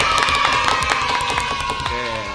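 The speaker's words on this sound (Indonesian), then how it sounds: "Tepuk tangan semuanya." A lively audience bursts into applause and cheering, with dense rapid clapping and high whoops layered together at close range and a few voices shouting in the mix.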